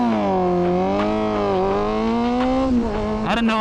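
A motorcycle engine revs in neutral with a loud, close, sustained drone. Its pitch rises and sags gently, then dips sharply near the end.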